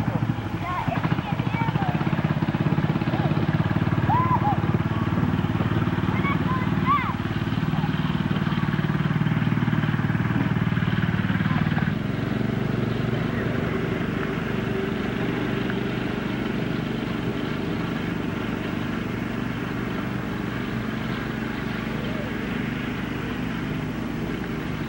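An Argo all-terrain vehicle engine drones steadily and loudly through a ride in the woods, dropping a little in level partway through, with faint voices underneath.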